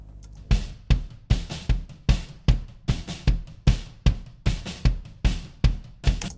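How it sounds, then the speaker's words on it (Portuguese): A raw, soloed kick drum with no equalization thumps alone in a steady rhythm, about two to three punchy, close hits per second with quick decay. "esse é o som do bumbo cru, não tem nada, nenhuma equalização nem nada"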